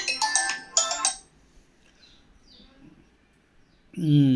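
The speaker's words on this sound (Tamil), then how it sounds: "எப்பப்போ ஃபோன் வந்து தொந்தரவு பண்ணிக்கிட்டு இருக்கும்" Phone ringtone chirping in two short bursts of bright electronic tones, close and loud, followed by quiet room noise and a voice starting to talk at the end.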